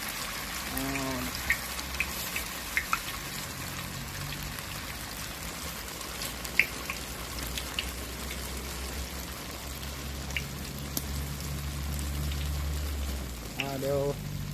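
In a Shan-style kitchen, food fries in a pan while a khanom jeen noodle dish with canned fish is prepared. A steady, close sizzling hiss runs throughout, with someone talking over it and a few faint clinks.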